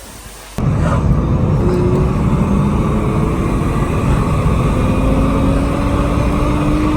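Steady road and engine noise from inside a BMW E36 while driving, a constant loud rumble that starts abruptly and holds evenly throughout, with no speech.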